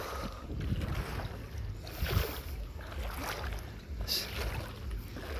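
A tourist boat out on the water, with a low steady engine rumble, lapping water and wind buffeting the microphone throughout.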